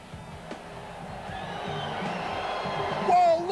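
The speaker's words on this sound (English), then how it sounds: "the big wave from the crowd. They're going right off here at Melbourne Park." A big stadium crowd at the Supercross Spectacular in Melbourne Park swells into cheering and whooping, a broad roar building over a few seconds, with a commentator talking over it.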